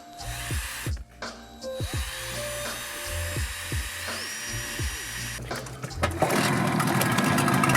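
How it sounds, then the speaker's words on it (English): A power drill whirs in repeated short bursts, spinning up and stopping, followed by a louder, rougher grinding noise near the end. "I'm going to drill it out with just a slightly bigger drill bit"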